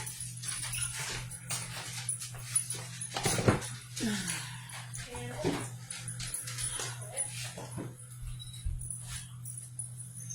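Pet dogs whimper at home while homemade dog cookies bake. Soft, repeated whines and small yips rise and fall over about ten seconds, fairly faint and close, with a steady background hum.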